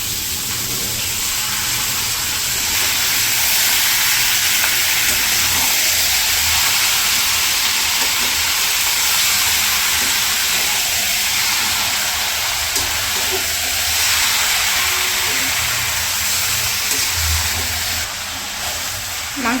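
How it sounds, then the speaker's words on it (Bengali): Meat is sautéed in a pot at an outdoor village picnic, making a loud, continuous broadband sizzle and hiss that swells and eases slightly over about twenty seconds. "মাংসটা এখন হচ্ছে কষাই নেব ভালো করে"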